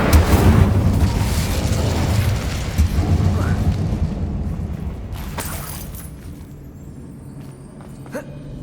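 A Confringo fire-blast spell erupts inside a mine in Hogwarts Legacy, loud and booming with a heavy rumbling roar that slowly fades, followed by a sharp secondary blast midway and a small pop near the end.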